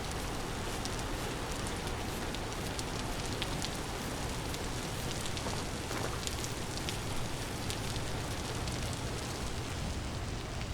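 Steady rain falls in Vintage Story, a dense, even hiss of drops that stays constant and fairly loud throughout with no other sounds standing out.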